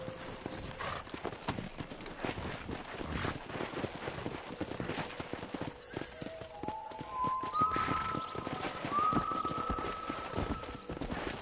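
Steady clip-clop of horse hooves trotting close by in the video game Red Dead Redemption 2, joined later by a horse's rising whinny.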